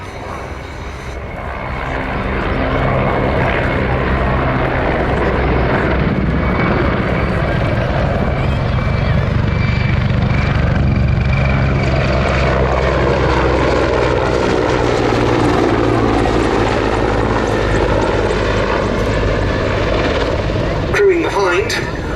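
Czech Air Force Mil Mi-17 and Mi-35 helicopters in a flying display at a Duxford air show, a loud continuous rotor thrum and turbine roar swelling in and holding steady as they pass, with an announcer's voice talking over it.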